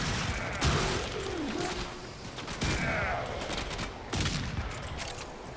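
Weapon fire in the PC game Warframe: loud, sharp shots at roughly even intervals over continuous game noise and music, with a brief rising whoosh between them.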